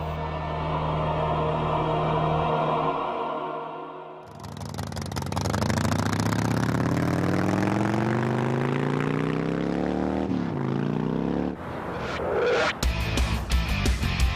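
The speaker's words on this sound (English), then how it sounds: "The engines shake this vastness to the core" Racing motorcycle engines roar on the Utah salt flats speedway, one steady drone followed by engines revving up with rising pitch in two strong acceleration sweeps, loud and close, ending in rough, sputtering bursts.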